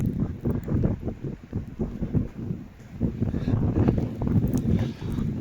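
Cold side wind gusts buffet the microphone with rough, uneven rumbling on a snowy winter beach at Anapa by a moderately stormy sea, loud and continuous with no talk.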